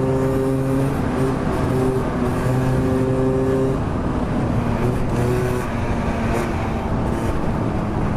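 Vehicle traffic on a road in Japan, with steady engine drone and tonal hum from cars moving close by, continuous for the whole stretch with no voices.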